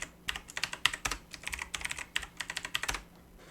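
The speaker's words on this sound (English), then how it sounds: "Let me type it again." Quick, rapid clicking comes from a computer keyboard as a password is typed, a close, quiet run of keystrokes that stops near the end.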